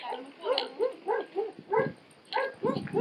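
A dog barks repeatedly in short, yappy bursts at moderate distance, a steady run of about a dozen barks with a brief pause midway; people talk at times.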